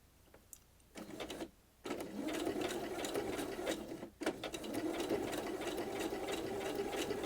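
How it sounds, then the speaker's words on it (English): A domestic sewing machine stitches bobbin-work appliqué on an art quilt, running steadily for several seconds with brief pauses near the start and mid-way, close and fairly loud, with no talking. "And then I'll continue sewing."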